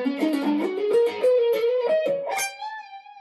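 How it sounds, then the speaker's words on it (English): A distorted electric guitar through a Boss Chorus Ensemble effect plays a short rising run of notes, gritty and sustained, ending on a ringing held note that fades. "Let's step into our distortion."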